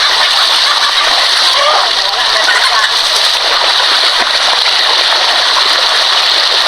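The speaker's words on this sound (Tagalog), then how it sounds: "Grabe ang lakas ng tubig. Ang bilis ng pasok." Floodwater rushes loudly into a flooded home, a steady, close, hissing roar of pouring and splashing water with no break.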